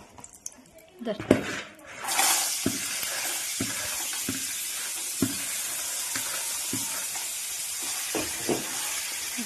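After a few clanks of cookware, vegetable stalks go into the pan where fish was fried and start a steady, close sizzle, with occasional utensil knocks and clinks as they cook lightly.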